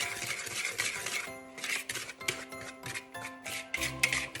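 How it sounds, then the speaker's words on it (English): A whisk scrapes and rubs steadily through white and light brown sugar in a bowl, a continuous close gritty rasp with rhythmic strokes and occasional clinks against the side. "I'm just going to whisk this around a little bit. Just whisk it."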